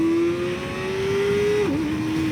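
A 2024 Kawasaki ZX-4RR sport motorcycle engine revs high, holding a steady, whining pitch, then dips briefly as if shifting before climbing again; loud and continuous, with no talking.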